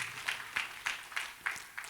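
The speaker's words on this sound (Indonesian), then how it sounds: "Boleh berikan tepuk tangan gitu." A church congregation gathered for an Easter service claps in short bursts, about six quick applause swells in under two seconds, soft and somewhat distant.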